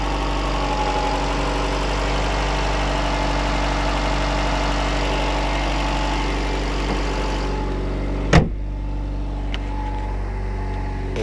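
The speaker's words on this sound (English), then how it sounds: "this is how it sounds on a cold start" An Acura CL idling with its hood open on a cold start after sitting three days. The engine gives a steady, loud, even drone with a low hum, interrupted by one sharp clunk partway through.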